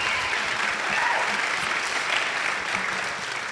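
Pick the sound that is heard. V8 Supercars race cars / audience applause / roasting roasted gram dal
audience applause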